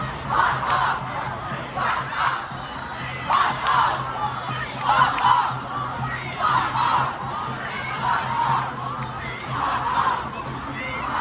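A crowd of student protesters on the Sydney Town Hall steps cheers and shouts in repeated swelling waves, a steady roar rising and falling every second or so at moderate distance.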